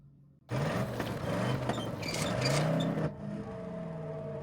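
A car in the Call of Cthulhu video game starts up abruptly after near silence, engine whirring and revving loudly for a few seconds before dropping to a lower steady hum.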